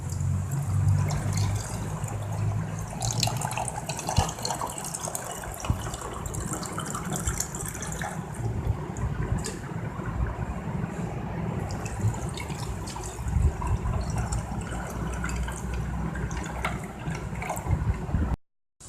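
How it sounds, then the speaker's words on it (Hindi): Fennel seed sharbat is poured into glasses, a steady close liquid trickle and splash lasting throughout before ending abruptly. "अब मैं इसको गिलासों में डालती हूँ।"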